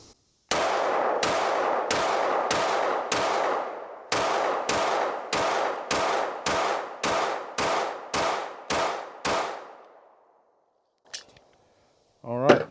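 Rapid string of about fifteen sharp, evenly spaced pistol shots from a CZ P-10C ported handgun firing Blazer Brass 115-grain rounds at steel, loud and close, ending in silence with a faint clink and a brief voice.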